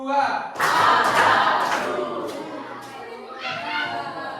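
A group claps together, a dense burst of hand claps that swells, eases off, then picks up again briefly, with some background voices.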